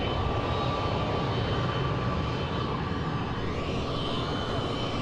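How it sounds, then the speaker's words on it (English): A passenger jet carrying a college football championship team lands at an airport in Georgia, its engine roar steady, broad and loud throughout, with no voices over it. "Flight 8897 has just landed."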